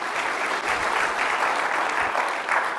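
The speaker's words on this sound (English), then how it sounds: "Give him a round of applause, man." An audience applauds a speaker at a talk, producing a steady, dense roar of many hands clapping throughout, at moderate loudness and with no pause.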